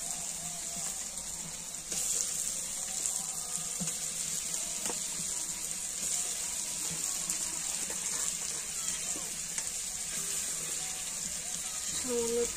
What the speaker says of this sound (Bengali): সামান্য একটু জল দিলাম